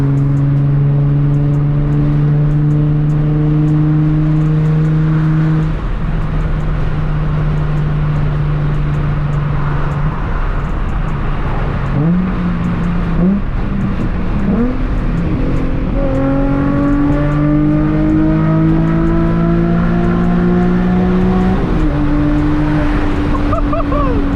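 Nissan 350Z with a single exit exhaust pulling hard from the driver's seat, the engine droning and climbing through the revs, dropping on a shift, then rising again in a second long, loud pull.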